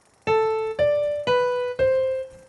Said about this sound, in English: Here is a very simple melody, and it sounds like this.